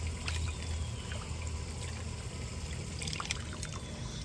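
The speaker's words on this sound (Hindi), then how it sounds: "इसका पानी निकाल लेते हैं ना" Water trickles and dribbles steadily as it is drained off cooked food in a village kitchen, a continuous close liquid pour with no talking over it.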